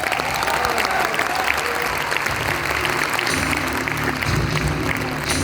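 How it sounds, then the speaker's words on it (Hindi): A large audience at a Ramotsav gathering at GL Bajaj claps for Shri Ram in a dense, continuous wave of applause that holds steady and loud throughout. "श्री राम के लिए तालियां बजा सकते हैं आप।"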